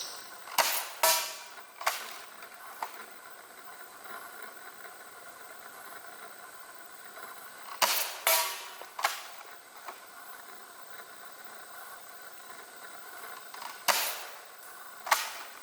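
An Adventure Force foam dart blaster fires at a distant target, sharp pops arriving in small clusters with quiet gaps, moderately close and with no talking.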